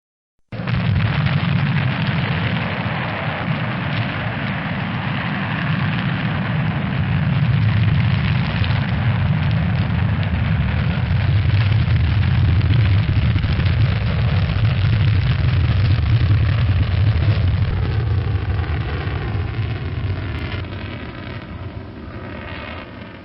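Long, deep roaring rumble of a supernova explosion effect, booming up suddenly and holding as a dense, loud, sustained blast of low noise for over twenty seconds before tapering slightly at the end.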